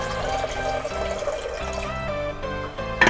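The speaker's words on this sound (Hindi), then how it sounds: "पानी डाल देंगे।" Water poured into a pressure cooker holding soaked dried peas, a steady splashing, gurgling stream that runs close and continuous throughout with no talk.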